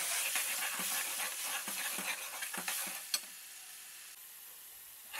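Tomato, onion, garlic and ginger frying in a pan for Indian chicken curry, a bright sizzle broken by rhythmic stirring scrapes, then one sharp clack before the sizzle settles to a softer, steady hiss.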